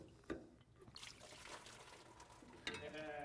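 Coolant water spills from disconnected hoses on a 1964 Chevelle into a bucket below, a soft steady trickle and splash with a louder gush near the end.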